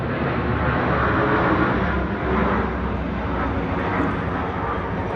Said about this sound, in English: big airplane